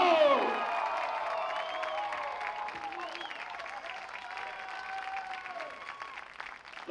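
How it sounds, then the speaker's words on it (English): Crowd at a New Jersey Motorsports Park race applauds and cheers the winner, steady clapping with scattered whoops filling the whole stretch at moderate distance. "A round of applause for Miles."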